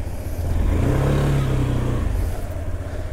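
A Yamaha Majesty S 155cc scooter engine with variable valve timing revs up and pulls away, its drone rising then fading over a few seconds with no talk.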